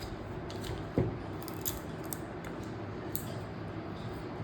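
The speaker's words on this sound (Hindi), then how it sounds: "आर्म होल के डट को कट करेंगे" Scissors snipping blouse fabric at the armhole dart, with a few faint, sparse clicks and snips over a steady low hum. One sharper thump comes early, and no one talks.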